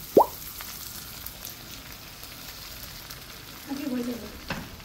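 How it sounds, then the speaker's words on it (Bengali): Tomatoes frying in chili oil in a pan: a low, steady sizzle with an early clank or plop, soft stirring, and a brief voice near the end. "সব টমেটোগুলো সুন্দর করে দিয়ে দাও, এর মধ্যে ভাজা হয়ে যাবে।"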